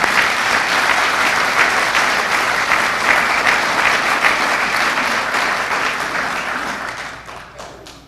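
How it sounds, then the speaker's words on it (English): A large crowd applauds at a fire department awards ceremony in Vacaville, steady and dense clapping that carries loudly for several seconds before tapering off toward the end. "So let's give them a round of applause"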